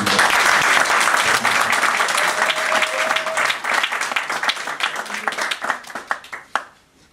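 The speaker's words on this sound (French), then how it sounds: "j'aimerais en fait que vous applaudissez rien que pour vous-même" An audience at an inaugural conference claps together in a full burst of applause that thins into scattered individual claps before stopping.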